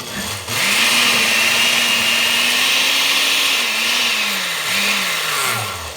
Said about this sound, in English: All right, so that all goes into our blender. I'm gonna blend real quick.